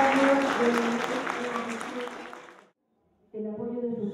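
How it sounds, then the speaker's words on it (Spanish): Families applaud at a school graduation ceremony, a steady crowd clapping that fades out, then gives way to a voice speaking after a short pause. "Fuerte el aplauso por el aniversario"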